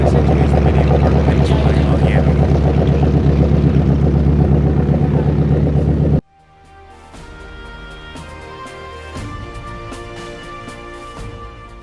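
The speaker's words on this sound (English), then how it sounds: "Remember the Mitchell bomber we were talking about, the B-25? That's what that is." Twin engines of a B-25 Mitchell bomber idling before takeoff, a loud, steady, dense roar that fills the first six seconds, then cuts off abruptly to a much quieter background.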